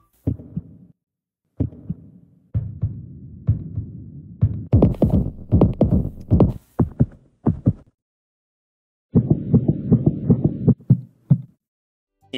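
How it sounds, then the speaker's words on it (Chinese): A heartbeat sound effect for a tense confession scene: low, thudding beats in short bursts separated by silent gaps, quickening into dense, pounding throbs before a final steady run of beats, all alone with no voices. "换成心跳的音效，听听看"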